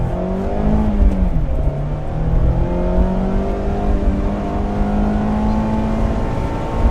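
A loud 2024 Mazda Miata engine drones and climbs steadily in pitch as it revs higher and higher to a 7,500 RPM redline, continuous and close.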